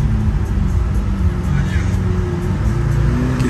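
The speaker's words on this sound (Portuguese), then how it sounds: "E o ronco do V12, sensacional." Loud, steady engine rumble from a Lamborghini Aventador S V12 on city streets, heard from inside the car with its Alcantara roof, a continuous low drone with no breaks throughout.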